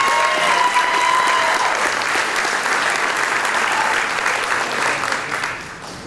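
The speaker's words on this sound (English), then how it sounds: "Let's give them a big round of applause." Audience applause at a junior high school essay event honoring a grandfather, steady and full for several seconds, then gradually thinning out toward the end.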